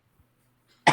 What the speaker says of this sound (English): I just need a cough.